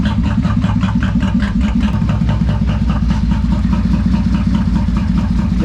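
A Yamaha Royal Star motorcycle engine runs at a steady idle with the throttle cracked for extra gas instead of choke, a loud, even, continuous rumble with rapid regular firing pulses throughout.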